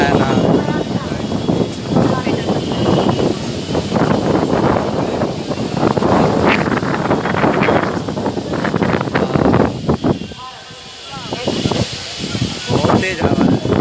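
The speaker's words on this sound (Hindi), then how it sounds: "बहुत तेज हवा है।" Strong storm wind buffets an outdoor microphone in a steady, roaring gust that drops briefly near the end and then returns, with people talking over it throughout.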